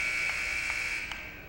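A basketball game buzzer sounding as a steady, sustained electronic tone through the whole stretch, fairly loud and close.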